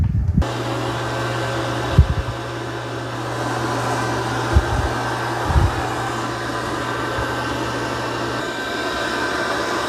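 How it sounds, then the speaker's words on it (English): Dreame robot vacuum and mop base station washing its mop pads, a steady loud mechanical whir and hum running throughout with a few brief knocks and thumps, no talking. "Okay, it's going to clean the mop pads"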